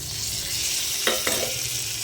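Fried potatoes are stirred into sizzling spiced masala in a pan while preparing an aar fish curry, with a constant close frying hiss and two quick scraping stirs in the middle.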